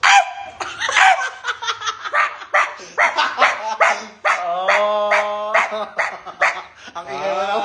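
A person imitates a dog barking in a run of loud, rapid, yelping barks, close to the mic, with laughter and other voices mixed in during a casual group chat.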